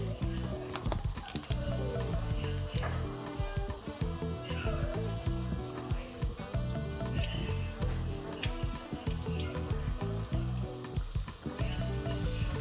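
Akara bean fritters fry in oil on medium heat, giving a continuous close sizzle and bubbling with light scraping and mechanical ticking mixed in, and no one speaking.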